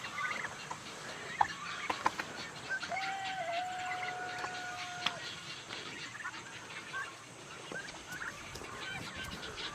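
Turkeys on a homestead gobble and chatter in the morning, with scattered fowl calls and a drawn-out gobble amid other clucking birds, fairly quiet and close.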